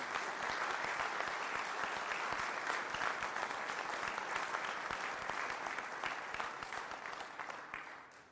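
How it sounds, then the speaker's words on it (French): Steady crowd applause at a French Communist Party New Year's greetings event, even and sustained for several seconds before fading out, heard from a moderate distance with no talk over it. "on peut l'applaudir."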